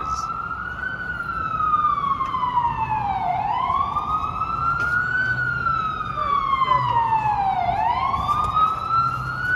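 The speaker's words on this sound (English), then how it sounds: "The non-stop sirens are disconcerting." An emergency siren in Manhattan, New York City, wails loudly and continuously, its pitch sweeping up and down in long repeating cycles over low traffic rumble.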